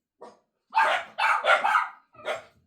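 Several household dogs barking indoors, a short yip followed by a rapid run of loud, close barks and one more bark after a pause.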